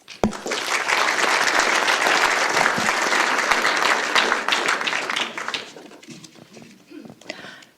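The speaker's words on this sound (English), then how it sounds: "So please join me in applauding them" An audience at a family business centre launch event applauds loudly, dense clapping filling the room for about five seconds before thinning into scattered claps and fading.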